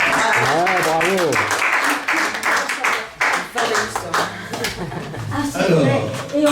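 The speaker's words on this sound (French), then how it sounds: "On pourrait applaudir Marie-Michel." An audience claps for a performer named Marie-Michel at a French-speaking gathering. The applause is steady and fairly close, with voices and some chuckling mixed in throughout.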